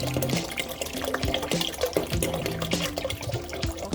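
Spring water pours steadily into a cooking pot to be boiled for a taro, shrimp and pork vegetable soup. The splashing, gurgling fill runs continuously and close, with a few faint knocks of the pot.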